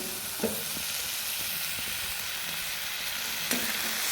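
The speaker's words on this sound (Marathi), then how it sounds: "बटाटे छान परतवून घेते" Unpeeled potatoes sautéed in a pan with finely chopped onion give a steady sizzle throughout, with a couple of stirring scrapes and no talking.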